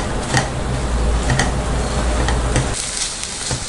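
Fried bread crumbs and grated coconut stirred together in a pan for a bread burfi, with a steady low sizzle and a few light scraping ticks of a spoon against the pan.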